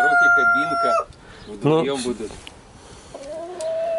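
Roosters kept for cockfighting crow loudly and close by, followed by scattered clucks and a shorter crow, with a voice talking in between.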